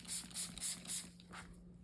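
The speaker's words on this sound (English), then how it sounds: "I'm gonna spray my shoe a little bit all over" Bursts of a hand-pumped spray bottle misting dye all over a boot, about four quick even sprays in a steady rhythm, close and moderately loud, then a short softer spray near the end.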